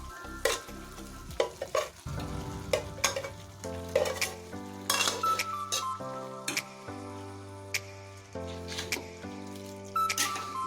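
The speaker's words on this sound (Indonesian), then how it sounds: "Masukkan tetelan daging yang sudah direbus" Boiled meat scraps stir-fried in a pan for a spicy balado dish, with a steady sizzle broken by repeated clinks and scrapes of a spatula stirring.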